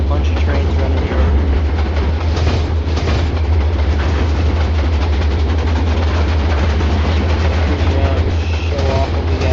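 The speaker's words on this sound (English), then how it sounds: "Got a whole bunch of trains running here." Many trains run at once in the Trainz2 railroad simulator game, a loud continuous rumble with a low steady hum and faint clickety-clack running throughout without pause.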